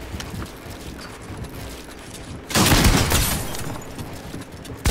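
A burst of gunfire rings out in a shooting video game arena match, loud and sudden after a quieter stretch of game background noise, fading back down before another shot at the end.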